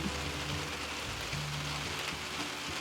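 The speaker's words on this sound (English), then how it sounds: "I wasn't expecting it to rain this morning" Rain patters steadily on surfaces around a campsite on a morning, a dense even hiss close by with a low murmur underneath and no voices.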